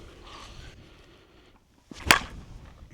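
An Onyx TOWA baseball bat hits a ball once with a sharp, loud crack that rises out of a quiet background, with faint ambient noise before it.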